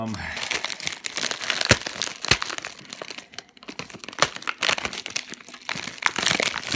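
Crinkling foil wrappers being torn open on sealed 1990 Fleer trading card packs, close and busy with sharp crackles and rips throughout, with a brief quieter lull midway.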